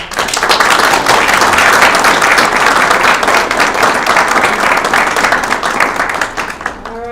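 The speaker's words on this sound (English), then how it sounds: "Another round of applause." An audience at a school student-of-the-month presentation breaks into loud, sustained applause that fills the room before fading out at the end as a voice begins.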